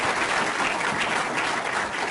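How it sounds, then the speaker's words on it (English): An audience at a surgical quality forum applauds its panelists, a dense, loud, continuous clapping that fills the whole moment. "all the panelists and all the speakers really deserve a round of applause."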